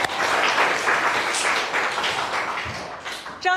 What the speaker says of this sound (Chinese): 希望大家把这个掌声送给大嘴同学